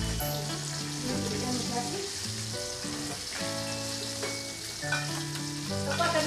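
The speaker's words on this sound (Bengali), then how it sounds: "মাছগুলো আমি খুব কড়া করে ভাজবো না, একটু হালকা করে ভেজে নেব" Hilsa fish pieces fry lightly in hot oil with a continuous soft sizzle and crackle, set beneath steady background music throughout.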